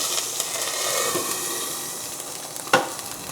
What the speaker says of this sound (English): Now, I hear my burger going.